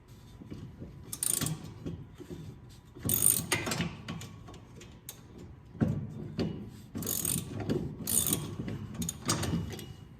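Brake dust cover bolts on the rear drum brakes of a 1996 Chevy Cavalier are loosened with a ratchet, heard as repeated bursts of rapid clicking ratchet strokes separated by short pauses, close and fairly loud.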